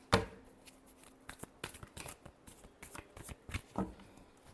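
Tarot cards are shuffled by hand in a quick series of soft riffling slaps and flicks, close and faint, with no talking.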